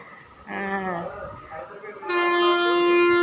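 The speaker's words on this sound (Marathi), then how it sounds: "हॉर्न झालेला आहे" Train horn at Karad railway station on the Kolhapur–Mumbai line: a loud, sustained harmonic blast sounds for the last second or so, preceded by voices talking on the platform.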